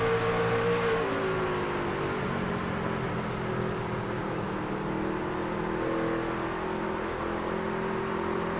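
Race truck engines from a sim-racing truck series at New Hampshire roar steadily and loud, several running close together with engine pitch rising and falling as they hold position in traffic.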